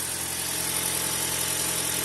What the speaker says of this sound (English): if the engine doesn't come on, you want it to come on faster, just hold down the accelerator so the engine will come on.